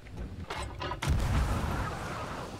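Cannon fire in the pirate game Sea of Thieves: a few faint shots early on, then one louder, deep booming blast that rumbles and fades over the next second or so.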